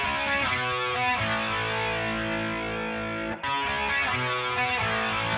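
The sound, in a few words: synth arpeggio with reverb added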